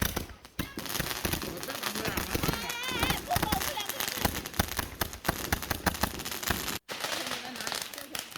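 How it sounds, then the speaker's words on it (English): A Gatling-gun-style firework fires outdoors in a rapid, continuous string of sharp crackling pops, close and loud. People shout and cheer over the barrage, which cuts out for a moment near the end before carrying on. "Uncle decided to come out and treat us with a heady mixture of light and sound and danger with the Gatling gun style firework"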